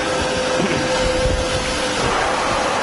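A Harrison M400 lathe with a 2.2 m bed running in reverse, a steady loud mechanical drone with a constant motor hum and faint whine, unbroken throughout, close to the machine.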